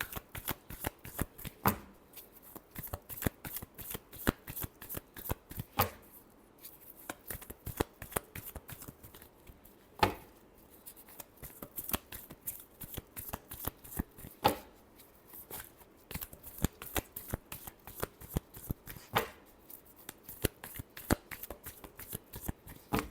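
A deck of tarot cards is shuffled repeatedly by hand in a quiet room, giving rapid crisp riffling bursts and sharp flicks in an uneven rhythm, close and moderately loud, with no talking.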